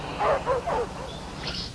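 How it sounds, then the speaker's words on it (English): A wild dog lets out a few quick, close barks and yips in a short burst, then falls quiet under faint background noise. "This ain't no wolf. It's a wild dog."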